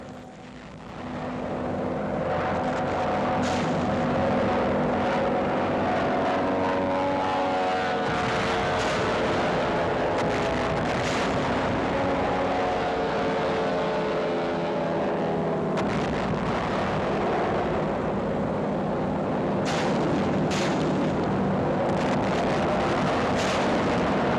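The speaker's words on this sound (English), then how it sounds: "For a week preceding the Allied cross-Rhine drive, air power pulverizes Wesel and other strong points" WWII air bombardment of Wesel by RAF and 8th Air Force bombers, a continuous loud roar of aircraft engines and rumbling explosions that swells and stays dense throughout, with sharp crackling bursts layered on top.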